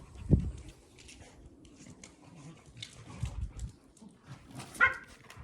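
Dogs give a short, deep bark near the start and a higher yip near the end, both fairly faint over quiet background rustling.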